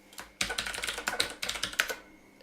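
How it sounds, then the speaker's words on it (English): Quick bursts of keystrokes on a computer keyboard while a password is entered, with clustered clicks and short pauses between them. The tapping is close and fairly clear, and no one speaks. "Scott, I'll enter my password."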